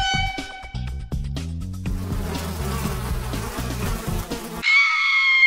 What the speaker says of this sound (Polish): Pszczoły.